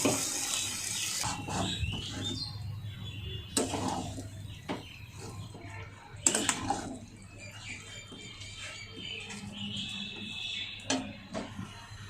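A small amount of water is poured into a curry frying with spices, giving a continuous close splashing trickle with a few louder clatters and no speech.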